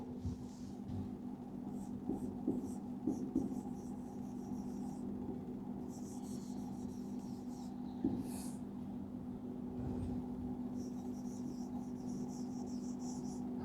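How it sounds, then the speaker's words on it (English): Chalk or marker scratching across a classroom board in intermittent strokes, faint above a constant electrical hum, with short bursts of writing at intervals. "See here I am writing on the board."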